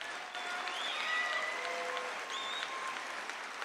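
Applause from a political rally crowd in an Iowa room, a steady wash of clapping held at moderate volume for a few seconds.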